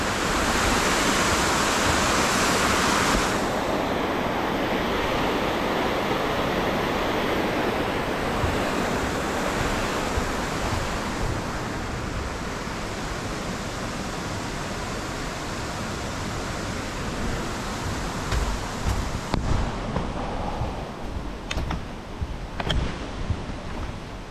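Small waterfall in a wildlife management area, a steady broad rushing roar of falling water, close and constant, with a few faint clicks and knocks near the end.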